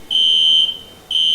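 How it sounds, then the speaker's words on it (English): A piercing electronic fire alarm tone in the video game Monster Loves You, a loud steady high beep that sounds for about half a second, pauses briefly, then sounds again. "Oh, fire alarms. Please stop."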